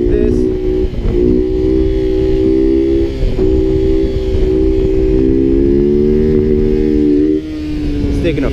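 A KTM motorcycle engine drones loudly during a wheelie, its pitch held at a steady high buzz with small rises and dips. A voice talks over it much of the time.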